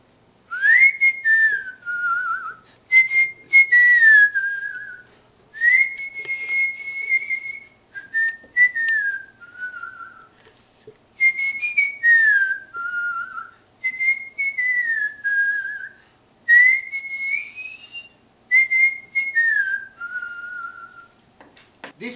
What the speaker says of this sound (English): every time I cut something, I like whistle all the time.